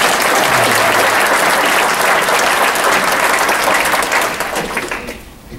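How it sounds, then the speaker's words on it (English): An audience at a VFW awards ceremony gives a loud, dense round of applause for about four seconds before it tapers off and fades. "but let's give her a round of applause."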